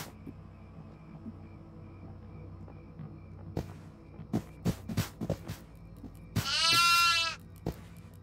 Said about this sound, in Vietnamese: Hai con rồi nha, hai con dê rồi nha.